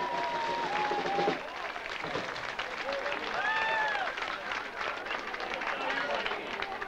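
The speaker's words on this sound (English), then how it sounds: "Will they put their hands together and give Mr. John Stewart a big round of applause?" Audience applause at a 1991 talent competition in Carrick-on-Suir rises among a crowd while someone speaks over it through a PA, with warbling feedback tones in the hall.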